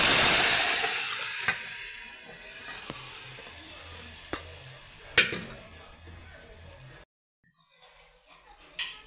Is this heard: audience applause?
no